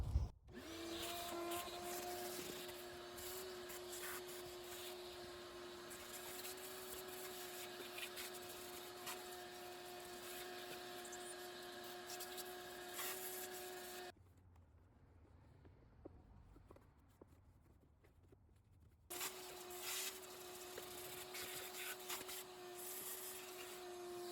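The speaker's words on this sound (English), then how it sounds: "I'm actually not gonna talk while I'm vacuuming because it is loud." A vacuum cleaner runs loudly with a steady motor whine, cuts out briefly for a few seconds, then starts up again.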